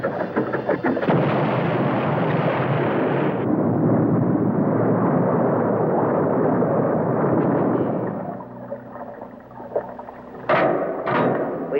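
A cartoon submarine's laser beam fires at a torpedo, a loud sustained roaring blast that cuts off abruptly and gives way to quieter rumbling and two sharp bursts near the end.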